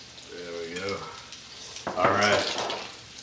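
An apple mixture with brown sugar and cinnamon is stirred in a hot pan, giving soft sizzling and scraping that swell midway, with brief voiced sounds over the top.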